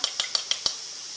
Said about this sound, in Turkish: Güzelce çırpıyorum yumurta sarısıyla.